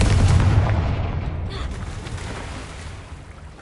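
Confringo fire spell blast in the video game Hogwarts Legacy, a loud deep boom that rolls off into a fading rumble over a few seconds.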